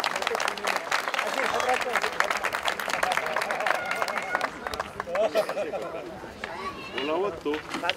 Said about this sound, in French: un grand applaudissement s'il vous plaît pour les deux équipes finalistes.